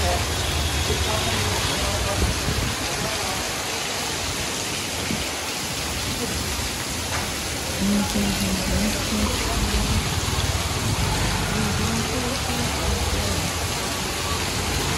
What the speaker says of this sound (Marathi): खूप जोरात पाऊस.